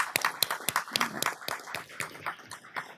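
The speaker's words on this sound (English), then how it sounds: "give her a big round of applause." Sparse, uneven clapping at a city council meeting, a handful of distinct hand claps landing irregularly at moderate volume in a quiet room, with no continuous crowd roar behind them.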